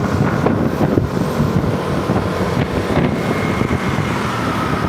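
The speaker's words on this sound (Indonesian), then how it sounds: "Tuh, anginnya masih kencang ya." Strong wind buffets the microphone at an elevated LRT railway construction site in Jakarta, a steady, loud roaring rush with gusty swells and a faint engine hum underneath.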